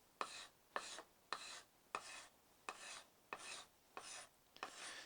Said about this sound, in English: We'll just gently scrape.